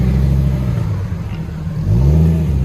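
A 1994 Dodge Viper with an 8.0L V10 and true dual Flowmaster exhaust idles with a deep, loud rumble, then revs up briefly near the end.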